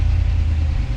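A Winnebago motorhome engine running at idle, a low steady rumble with a faint rhythmic pulse, close and continuous for the whole second.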